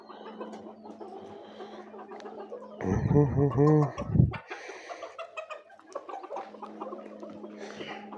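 A Phoenix rooster shut inside a box gives a loud, close, muffled crow-like call in the middle, with someone talking before and after it.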